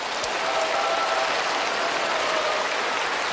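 Audience applause at a lecture, a dense, even wash of clapping from a large crowd, loud and sustained throughout with no pauses.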